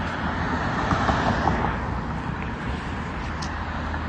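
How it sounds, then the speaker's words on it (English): Car engines in night traffic form a steady, continuous rumble of road noise, moderately loud and unbroken, with no voices and no distinct pass-by. "There's these engine sounds over here."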